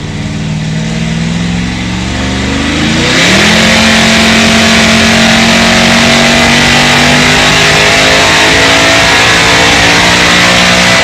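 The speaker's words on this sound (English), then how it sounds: "putting his car in the trailer right now" A Cadillac CTS-V2 race car's engine roars very loudly and close as it is driven onto a trailer, idling rough at first, then revving up and holding a sustained high drone, with no talking.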